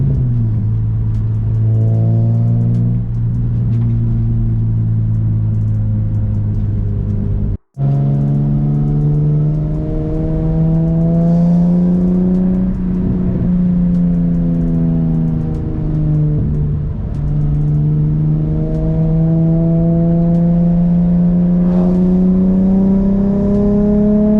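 Nissan 350Z with a Flashark Y-pipe single exhaust running steadily, a deep droning hum that rises and falls gently with small throttle changes, close and continuous for over twenty seconds, broken by a brief cut, with no voices.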